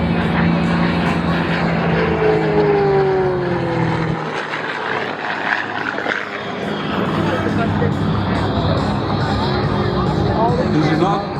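Van's RV homebuilt sport airplanes pass overhead at an airshow at Camarillo, a steady propeller-engine drone with rising and falling pitch as they fly by, continuous across the clip with a dip midway, a commentator talking over it.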